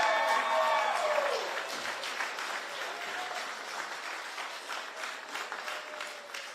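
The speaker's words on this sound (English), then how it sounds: "Y'all give us a round of applause for them." Crowd applause for campaign staff and convoy captains after a Georgia Senate Republican primary win, starting loud over a fading voice, then settling into sustained clapping.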